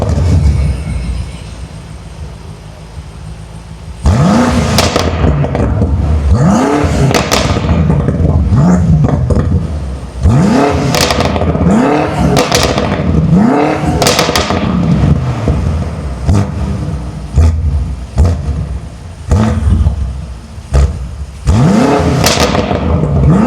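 A BMW M5 Competition, BMW X5M and 2024 Ford Mustang GT take turns revving their exhausts, with loud repeated throttle blips, rising and falling engine pitch, and sharp pops and crackles after a quieter idle at the start.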